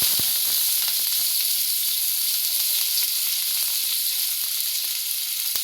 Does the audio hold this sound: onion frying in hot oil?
yes